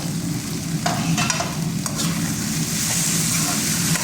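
Okra and prawns fry with ginger, garlic and tomato in a hot pan, giving a steady, close sizzle with occasional stirring scrapes and no talk.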